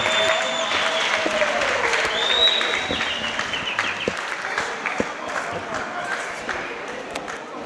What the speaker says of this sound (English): Can we please stand and clap our hands for our Honorable Premier?